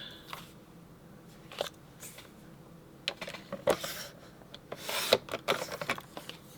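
Paper being trimmed for a scrapbook page makes short, close rasping and scraping strokes in several separate bursts, with quiet gaps between them and no talk.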